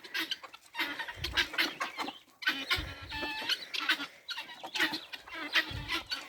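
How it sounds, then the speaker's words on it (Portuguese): Several farm chickens cluck nearby in repeated choppy bursts, their calls overlapping and rising and falling with brief pauses. "Vou mostrar para vocês o que a galinha faz,"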